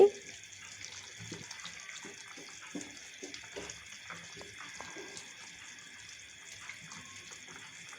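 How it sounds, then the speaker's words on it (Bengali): Bean curry bubbling in a covered pot on the stove, a steady faint watery simmer with scattered soft bubbling pops and light clinks throughout, no talking. "কিছুক্ষণ রান্না করার পর দেখুন বলক ওঠা শুরু হয়েছে।"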